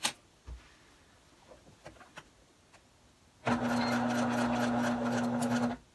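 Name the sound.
sewing machine sewing toy car activity mat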